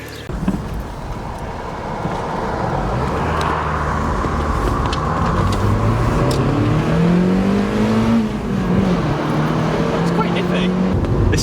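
Mazda MX5 Miata with new coilovers, top down in the rain, driving along with a steady engine drone, rising and falling engine tone and road noise, with voices talking over the cabin rumble.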